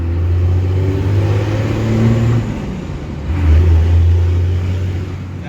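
Diesel engine of a 6-speed swapped 2nd gen Cummins dually truck runs with a deep, loud drone, its pitch dipping and climbing again as the truck revs through a gear change, heard from inside the cab.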